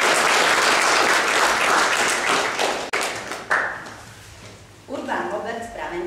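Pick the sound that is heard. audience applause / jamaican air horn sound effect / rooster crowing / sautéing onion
audience applause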